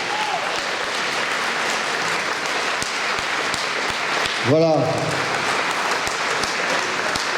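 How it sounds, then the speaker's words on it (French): Audience at a Napoleon bicentenary pot-au-feu dinner evening in Nogent applauds: dense, steady clapping from a roomful of people throughout, with a voice briefly heard over it. "Alors applaudissez-les très fort, aussi fort que les canons cet après-midi"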